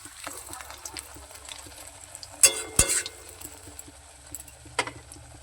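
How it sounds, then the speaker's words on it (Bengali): Begunis, eggplant fritters in batter with a little baking soda, frying in hot oil in a home kitchen, a low steady sizzle broken by a few sharp clatters and bubbling bursts. "আর এই বেগুনি ভাজতে বসিয়ে দিয়েছি।"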